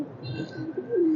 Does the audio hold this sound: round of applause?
no